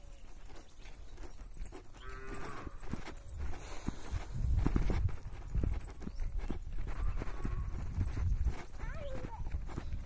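A herd of buffalo walks along a grazing route, hooves clopping and shuffling in an uneven rhythm close by, with a herder calling out over them.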